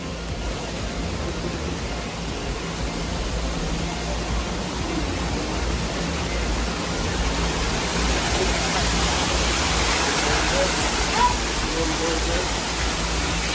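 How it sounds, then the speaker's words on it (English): Loud, steady roar of a waterfall in a Japanese garden at a botanical garden, a constant broadband rush that fills the whole clip without letting up. "Waterfall"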